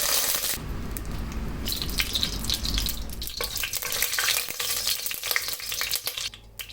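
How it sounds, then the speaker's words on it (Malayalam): Whole cardamom, cloves, cinnamon and bay leaf dropped into hot oil for a Munnar-style chicken curry, a loud close crackling sizzle that settles into steady frying with small clinks. "ചൂടായ എണ്ണയിലോട്ട് ഒരു 4 ഏലക്ക, ഒരു 3-4 ഗ്രാമ്പൂ, ഒരു വലിയ കഷ്ണം പട്ട അതിലേക്ക് ഇട്ട് കൊടുക്കാം."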